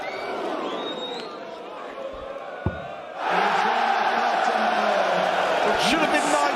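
A darts audience at a World Series of Darts finals quarter-final swells suddenly into loud cheering and shouting, the roar jumping up halfway through and staying high, with a commentator's voice over the first part.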